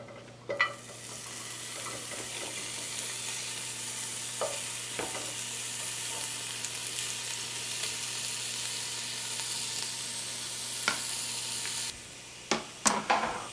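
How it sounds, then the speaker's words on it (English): Meat and bones browning in a heavy saucepan give a steady, close sizzle that runs without a break, with a few sharper pops and spits near the end. "We've got the meat and the bones inside here and they're browning nicely."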